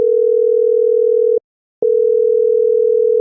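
A phone call ringing tone plays as a steady, loud electronic tone, broken by one short gap of silence partway through before resuming; no voices.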